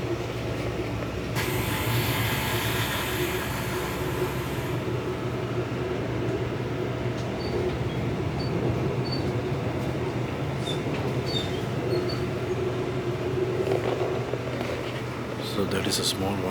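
A train runs along tracks through vineyard country on a journey from France to Germany, producing a steady rumbling hum throughout as a person talks over it.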